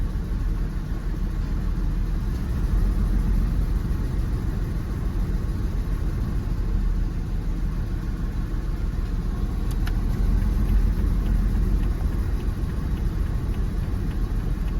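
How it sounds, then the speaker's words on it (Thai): A Jeep WJ with the 4.0 engine runs rough and shakes, a steady low rumbling drone that stays close and even for the whole stretch, with no talk over it. "เครื่องยนต์สั่น"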